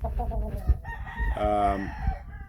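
An adult Phoenix rooster gives one loud, drawn-out crow close by, with clucking and low background rumble around it.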